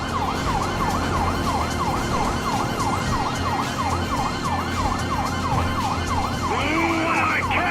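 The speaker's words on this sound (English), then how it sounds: "I don't think they can hear the sirens." A wailing police siren in the video game GTA 5 sweeps up and down in a fast, steady cycle, loud and close, with a second siren tone joining near the end.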